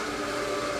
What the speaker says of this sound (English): so that's why the vacuum cleaner was out